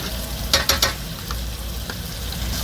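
Yogurt being stirred into a sizzling biryani masala for mutton biryani, with a steady fry hiss and a quick cluster of three or four louder scraping stirs near the start, then quieter sizzling with no voices.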